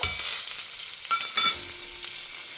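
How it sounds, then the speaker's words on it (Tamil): Mustard seeds splutter in hot oil for a Tamil kattu saaru, a dense frying hiss broken by scattered sharp pops and crackles close by, with no speech. "ஸோ இப்போ கடுகு பொரிய ஆரம்பிக்கிறது இல்லையா"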